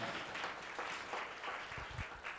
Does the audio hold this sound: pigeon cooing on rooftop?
no